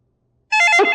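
A telephone starts ringing abruptly after half a second of silence, a loud, bright electronic tone with a warbling, stepped pattern, close and alone with no voices.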